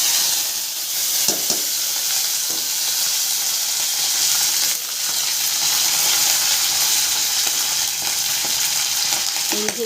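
Mustard seeds and curry leaves sizzle and crackle in hot oil while cooking aloo puratha, a steady close hiss with scattered pops throughout.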